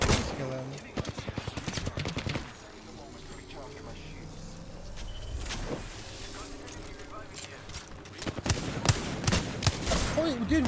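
Rapid bursts of gunfire in the KovaaK's aim trainer video game come as sharp, closely spaced shots. The shooting clusters at the start and again near the end, with someone talking between the bursts.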